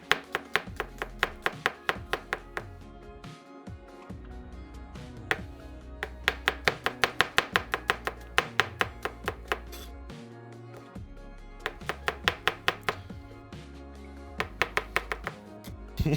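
A kitchen knife chops food on a board while making linguine Alfredo, quick bursts of crisp, close taps in rapid runs separated by short pauses, no voices over it.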